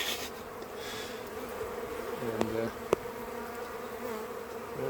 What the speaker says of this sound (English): I got a bee calling in my ear